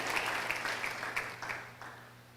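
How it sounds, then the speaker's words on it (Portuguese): Church congregation applauding during a sermon, a steady wash of many hands clapping at moderate distance, fairly soft, with a few sharper individual claps standing out over the bed of sound. "aplauda o Senhor"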